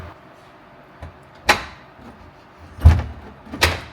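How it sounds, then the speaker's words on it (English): The door of a widebody C4 Corvette being closed gives a few separate knocks and clunks, the last two heavier thuds sounding close as the door is worked shut. "And then we should be able to close the door."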